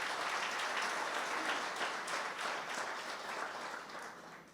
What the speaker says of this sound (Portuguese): Queria que você aplaudisse ao Senhor também pela vida deles.